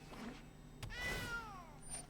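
A cat meows once from inside a Magic: The Gathering video game, a single clear falling meow over quiet game background hum.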